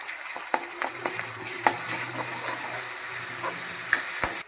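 Chili-ginger paste hits hot oil with roasted onion in a pan, giving a steady bright sizzle and frying hiss with a few soft stirring clicks and scrapes, close up and without talk.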